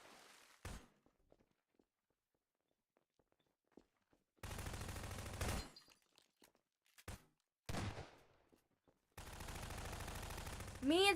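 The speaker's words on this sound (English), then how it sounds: "Me and someone else is shooting at this freaking computer, and we're not losing health" Video-game gunfire aimed at a computer-controlled enemy, heard as several separate bursts of dense, loud shooting broken by quiet gaps, with scattered light thumps between them.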